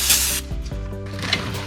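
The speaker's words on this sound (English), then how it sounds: "We're gonna spray it down." Short hissing bursts of cleaner sprayed from a trigger bottle onto a 2013 Mustang flywheel surface, close and loud, a long spray followed by a quick pump and another spray.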